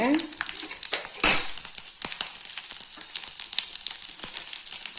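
Garlic and dried red chillies hit hot oil for a hotel-style tomato chutney, giving a loud steady sizzle and crackle, with a sharp burst of spitting early on and occasional stirring clicks.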